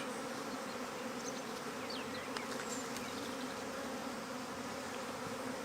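Honey bees hum steadily around an open hive during an early spring March inspection. The dense, continuous drone is fairly soft and fills the whole stretch, with no speech over it.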